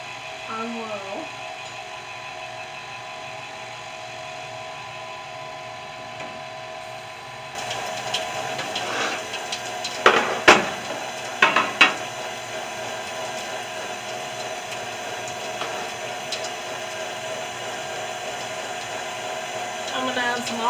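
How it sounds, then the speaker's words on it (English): An electric stand mixer runs on low while kneading spiced wheat dinner roll dough, giving a steady mechanical whir throughout with a few louder knocks and clatters partway through. "I turned on the mixer to low."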